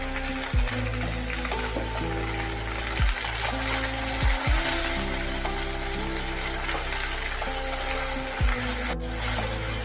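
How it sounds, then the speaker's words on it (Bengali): Sliced okra frying in mustard oil sizzles steadily up close, while a spatula scrapes and knocks against the pan every few seconds, with no voices. "ঢ্যাঁড়স তেলের মধ্যে ভাজা হচ্ছে"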